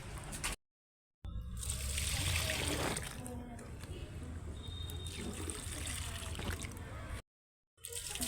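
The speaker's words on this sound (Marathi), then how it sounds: "थोडा झाडालाही पाणी टाकून देते" Water poured onto a plant, splashing and trickling steadily, broken by two short silent gaps, with faint background activity.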